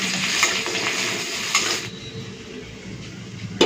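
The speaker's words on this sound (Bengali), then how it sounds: "তো রসুন আর লঙ্কাটাকে ভেজে নিয়েছি" Crushed garlic and dried red chillies frying in a pan give a steady, close hiss of hot oil, with light stirring scrapes and a few clinks before the sizzle softens.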